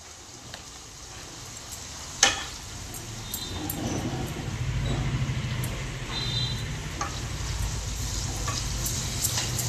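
Tamarind pulihora mixture simmering in oil, with a low bubbling sizzle that swells after a sharp knock, plus faint high squeaks over the steady cooking noise.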